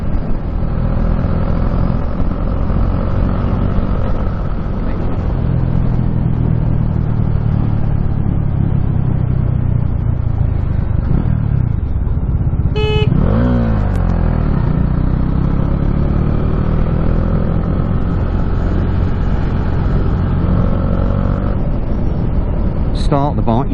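A Bajaj Dominar 400 motorcycle engine runs steadily with a low, loud rumble, rising in one brief rev partway through before settling back to a steady idle.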